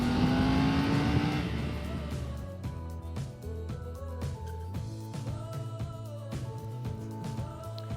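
A 2021 Triumph Tiger 900 GT Pro motorcycle engine runs while riding, revving high at first, then settling into a steady, loud engine drone close by.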